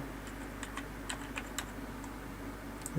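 Quiet, scattered clicks of someone typing a confirmation password on a computer keyboard, light irregular keystrokes over a low steady room hum.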